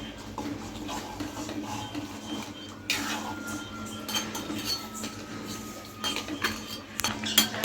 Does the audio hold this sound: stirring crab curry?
yes